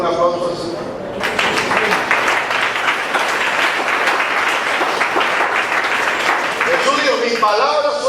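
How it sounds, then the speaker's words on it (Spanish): Church congregation applauding at a service, a dense, loud, continuous wash of clapping that begins abruptly after a preacher's voice and runs for several seconds before his speech returns over its tail. "¿Le va a dar un aplauso al Señor?"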